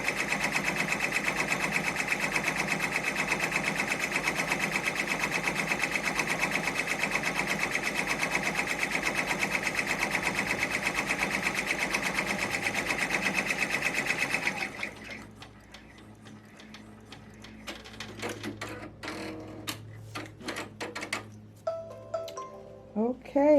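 A sewing machine stitches a large composition notebook cover, running in a steady rapid rhythm for about fifteen seconds before stopping, followed by quieter scattered handling noises.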